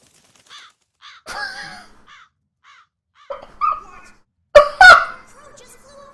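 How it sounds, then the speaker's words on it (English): A crow in Tales of Berseria gives a series of sharp, raspy caws spaced irregularly, with a couple of loud close calls near the end and brief speech mixed in. "Crow just flew off with the coin."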